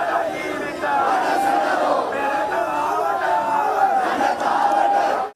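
A large protest crowd chants and shouts together at the Gota Gogama village, a dense, continuous roar of many voices rising in rhythmic surges, loud and sustained.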